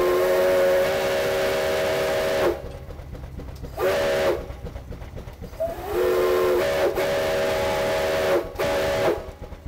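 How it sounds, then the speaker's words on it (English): A steam locomotive whistle blows loud and close in several long sustained blasts separated by short pauses, with rail and steam noise between the blasts. "getting to shovel coal, running the boiler, and blowing the whistle and the throttle"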